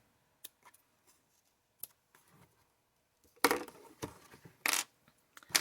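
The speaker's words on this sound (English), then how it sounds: "And then I'm going to snip off my ends." Scissors snipping off the thread ends after knotting the binding of a handmade kaleidoscope journal: a few faint clicks at first, then several louder, crisp close-up snips with short pauses between them, no talking.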